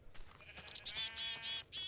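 A black sheep in Tekkit, the Minecraft modpack, bleats in a quick series of short, bright calls, close and clear with no talking over them.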